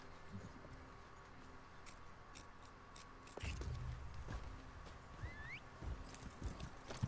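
Horse hooves clip-clop in the Elder Scrolls Online video game while riding, a steady trotting rhythm of moderate loudness that grows fuller after a few seconds, with faint ambient game sounds behind.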